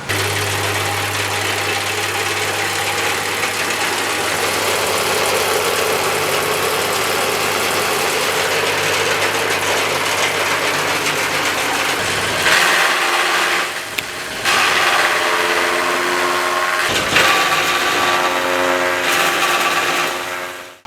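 A 5-blade chaff cutter driven by a 2.2 kW electric motor at about 1400 rpm runs loud and steady, a continuous mechanical drone with rattling vibration and a few brief dips and surges toward the end.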